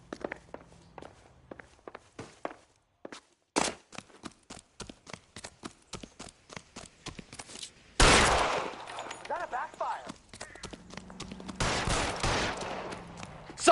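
Gunfire in the video game L.A. Noire: a burst of rapid shots around the middle, then two loud, dense volleys of sustained firing, interleaved with footstep-like clicks and sparse game sounds.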